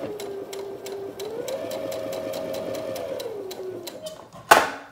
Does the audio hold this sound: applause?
no